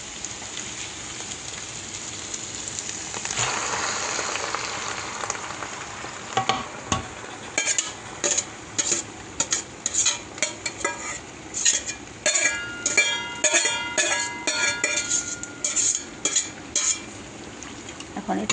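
Potatoes tipped into a hot pan of frying oil while cooking hilsa fish, followed by a steady sizzle and a run of rhythmic scraping stirs from about the midpoint onward, moderately loud and with no one talking.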